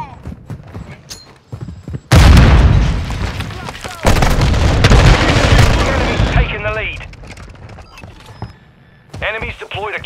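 A sticky grenade explodes in Modern Warfare 2 during a team deathmatch on PC, a loud, close boom followed by a second heavy blast and gunfire, with in-game voices calling out around it.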